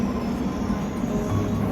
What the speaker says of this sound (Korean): 청량리역에서 출발하는 경춘선 급행전철을 타고 가볼게요.